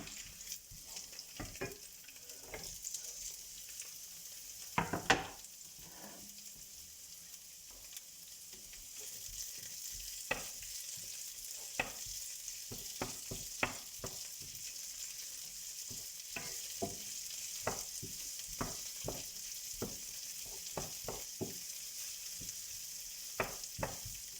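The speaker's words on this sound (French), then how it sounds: "J'ai prédécoupé mon poivron rouge, je le rajoute à la poêle." Chopped red bell pepper frying in a pan, with a steady soft sizzle under repeated sharp clicks and scrapes of a utensil stirring, close and fairly quiet.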